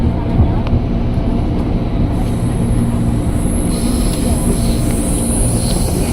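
A KRL commuter train runs on rails as a steady, loud rumble of wheels from inside the carriage, with a faint high squeal rising over the continuous roar.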